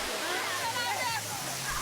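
A waterfall at a natural site near Man, Côte d'Ivoire, gives a steady, dense roar of falling water that fills the whole clip without a break.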